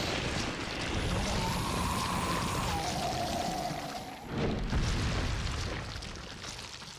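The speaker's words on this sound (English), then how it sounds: "Now I shoot the rocket launcher." A rocket launcher fires with a long roaring whoosh in the video game Resident Evil 4 (2005), then a heavy explosive boom after a brief dip, trailing into a fading rumble.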